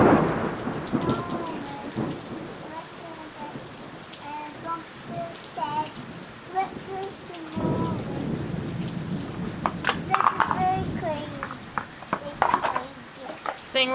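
Steady rain falls with deep rumbles of thunder during a storm, heard from indoors with a young child and an adult talking intermittently over the wash of rainfall.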